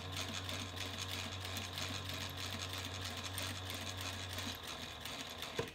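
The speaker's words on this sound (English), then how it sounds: "So we're just sewing." A sewing machine runs steadily while quilting the exterior panels of a handbag, a continuous close mechanical whir that stops near the end.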